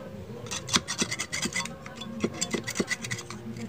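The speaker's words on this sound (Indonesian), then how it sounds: "Kayu putih kita tetesin ke obeng, lalu kita gesek-gesek seperti ini teman-teman." A screwdriver tip wetted with eucalyptus oil scrapes and rubs back and forth over corroded contacts inside an air conditioner remote, giving a close, steady run of short raspy strokes with no talking.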